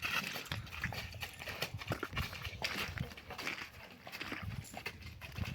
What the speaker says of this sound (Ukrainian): От вже виводять коні, дуже сильний лід, коні не ковані